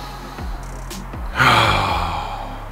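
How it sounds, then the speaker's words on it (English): A single big breath drawn in through the nose after septorhinoplasty, a loud close rushing inhale that tapers off. "if I did a big nose breath like that"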